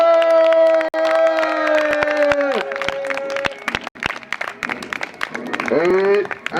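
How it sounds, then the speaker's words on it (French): A crowd at a professional wrestling event cheers and applauds a heavyweight wrestler, with loud sustained shouts and tones layered over scattered sharp claps, swelling again toward the end. "Mesdames et messieurs, applaudissez la Panzer Machine, Panzer!"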